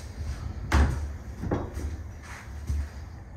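Double sliding barn doors close inside a tiny house park model, giving a few soft thuds and knocks spaced apart, quiet and close, with a low rumble underneath and no talking.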